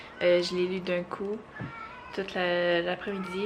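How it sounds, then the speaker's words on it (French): A cat in heat giving drawn-out meows and yowls, several long rising and falling cries close by, with a person speaking at the same time. "ce que vous entendez en ce moment, c'est mon chat qui est dans ses chaleurs"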